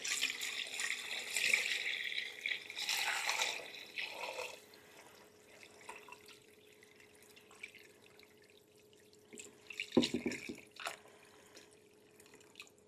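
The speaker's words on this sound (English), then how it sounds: "I'm just gonna cover that with enough water to cover the bones." Tap water runs into a pot of leftover chicken bones in a kitchen, splashing and trickling in bursts near the start, then a quieter stretch before another brief splash.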